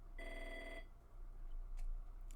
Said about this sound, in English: that phone call is actually nicely timed